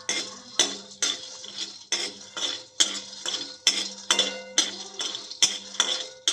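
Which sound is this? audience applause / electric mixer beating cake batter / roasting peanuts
roasting peanuts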